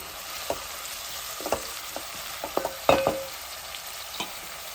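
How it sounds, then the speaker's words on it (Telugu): Onions and green chillies frying in oil in a home kitchen pan, a steady soft sizzle broken by scattered sharp clinks and scrapes of a stirring spoon, fairly close, with no talking. "ఇవైతే మంచిగా ఉల్లిగడ్డలు పచ్చిమిర్చి అయితే మంచిగా ఆయిల్ అయితే మగ్గాలండి"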